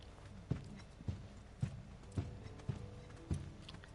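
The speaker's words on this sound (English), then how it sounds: "Hear those heavy footsteps that Barrett has?" Barrett's heavy footsteps in Final Fantasy VII Remake, six thudding steps in an even, deliberate rhythm over a low game ambience, quiet and with no talking.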